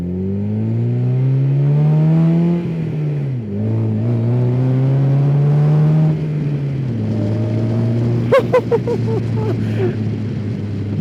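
A DF Goblin road-legal kit car's engine warms up with rising and falling revs, loud and close, then settles into a rough burbling idle with a few sharp pops near the end.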